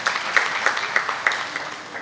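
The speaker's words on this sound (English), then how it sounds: "I think a big round of applause for each one of us to come forward." Audience applause at a talk for chartered accountants on AI, heard as a thin patter of claps with a few sharper, evenly spaced hand claps standing out at moderate volume.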